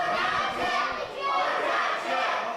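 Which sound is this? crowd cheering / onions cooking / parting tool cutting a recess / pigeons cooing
crowd cheering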